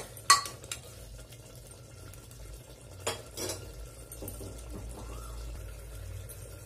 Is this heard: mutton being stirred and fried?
yes